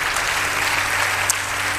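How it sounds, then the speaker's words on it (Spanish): Church congregation giving a brief burst of steady applause, a dense wash of clapping from many hands filling the room. "Den un aplauso al Señor."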